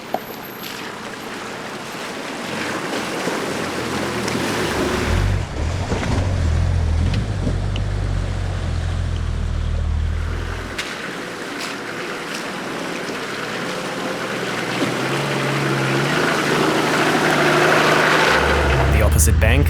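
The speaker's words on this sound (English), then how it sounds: "this shallow stream posed no problem for either vehicle" Two off-road vehicles ford a shallow stream on a rough trail in Albania: engines rumble low while water splashes and churns loudly and continuously, with brief talk in the background.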